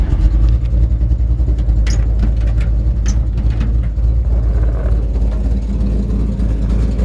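A 1953 Chevrolet 3100 pickup with a 350 V8 and dual Flowmaster exhaust idles, still warming up, with a loud, deep, steady rumble and a slight lope, heard up close with no talking.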